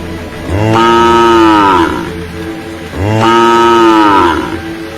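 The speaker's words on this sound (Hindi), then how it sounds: "कपिला जोर जोर से रंभाने लगी" A cow moos loudly twice, each long bellowing call rising and falling, with a short pause between them.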